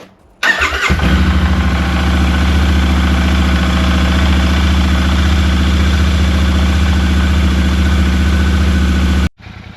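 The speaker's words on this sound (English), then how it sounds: "you must fire up the bike and let it idle without touching the throttle for about 15 minutes" A Royal Enfield Super Meteor motorcycle with a new air filter fires up and settles into a steady, loud, close idle with an even low thump, running alone until it cuts off.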